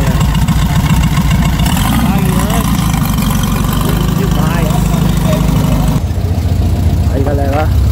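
A Chevrolet Caravan engine idles with a low, steady rumble throughout, while people talk over it nearby.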